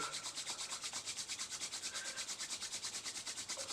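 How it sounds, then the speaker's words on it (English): Palms rub briskly against each other during a yoga session, a soft, close, evenly rhythmic swishing of about ten strokes per second with no talking. "rub the palms against each other."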